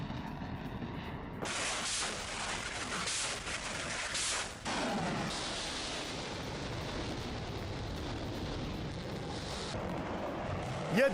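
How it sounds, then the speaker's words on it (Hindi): Explosions near the Kerch bridge in Crimea in news footage, a dense, continuous roar of blasts and rumble with bursts of crackling noise, heard alone without talk. "कर्च ब्रिज के करीब कई धमाकों का दावा हुआ।"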